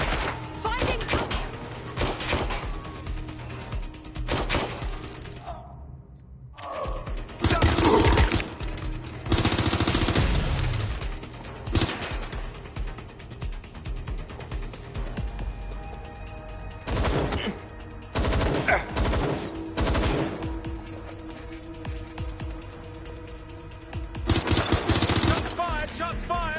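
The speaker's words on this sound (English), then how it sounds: "Shots fired! Shots fired!" Gunfire in the video game Watch Dogs comes in repeated dense automatic bursts and single cracks, loud and close, with a short silent gap and game voices talking over parts of the action.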